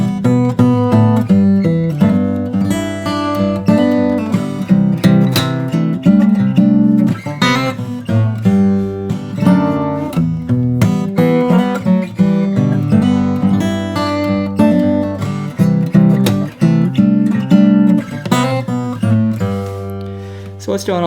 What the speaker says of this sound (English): And then we go into the chorus, and the chorus sounds like this.